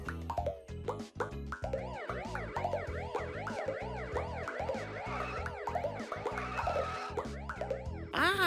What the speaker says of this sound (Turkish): Ambulans.